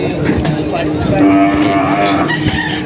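Water buffalo lowing at a livestock auction market for cattle and carabao, a drawn-out moo over steady crowd and yard noise, with faint talk in the background.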